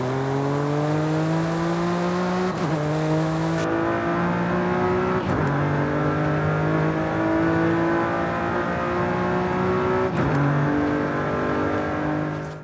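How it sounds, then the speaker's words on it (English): A BMW G82 M4 Competition's inline-six engine, heard in the Forza Horizon 5 racing game, revs hard on a back road with a loud, rising note that climbs through several gear changes and winds up to high RPM. "I do love the sound of it at high RPM. I think it's a sweet sounding inline six"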